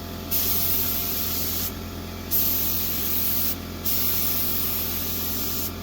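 A paint spray gun fed by an air compressor hisses in three steady bursts of a second or more each while coating a steel building, with a constant low hum between the bursts.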